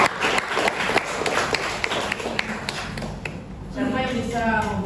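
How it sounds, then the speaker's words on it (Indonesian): Applause breaks out in a classroom, a dense stretch of clapping from many hands that fills the room at moderate loudness before fading, with talk starting up near the end. "kita berikan aplaus"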